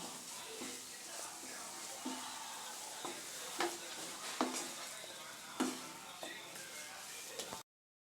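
Grated coconut mixture is stirred in a pan over a soft, constant sizzle, with a few distinct spoon scrapes and taps at irregular moments before it cuts off abruptly.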